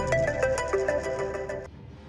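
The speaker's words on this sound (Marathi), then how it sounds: "आता मध्येच कोणाचा फोन वाजला रे?" A mobile phone ringtone plays a bright repeating electronic melody at close range for under two seconds, then cuts off abruptly.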